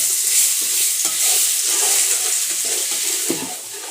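Garlic paste being stirred into hot ghee with a little garam masala for chicken rocha: a steady close sizzle with repeated scraping strokes of a spoon against the pan, and no voices.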